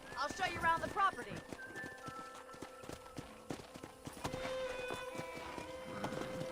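Horses clip-clopping in the video game Red Dead Redemption, a steady rhythm of hooves at moderate volume under game music and a spoken voice.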